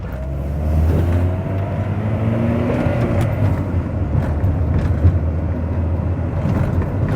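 A Honda Prelude on Maxpeedingrods C0T6 coilovers at their lowest, soft setting rolls over a bumpy road, with a steady low road and engine rumble and occasional light knocks from the bumps.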